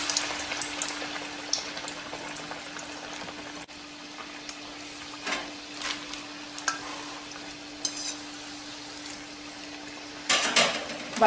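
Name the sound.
frying semolina vada in a pan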